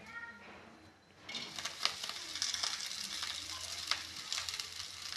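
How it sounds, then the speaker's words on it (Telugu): Gongura leaves drop into a hot kadai and start frying, a quiet lull giving way to a steady crackling sizzle with sharper pops, close but fairly soft. "ఇప్పుడు అదే కడాయి పెట్టుకొని ఆ కడాయిలో గోంగూర వేసుకుందాం."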